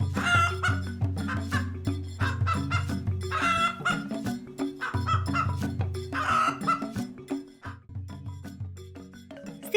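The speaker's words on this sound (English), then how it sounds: "Meet Charlie, the busy little chicken who lays eggs for us to eat." A farm chicken clucks in repeated bursts of busy, close cackling with short pauses between them, clear and alone without any talk.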